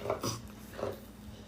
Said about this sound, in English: My dog is making nasty sounds, trying to...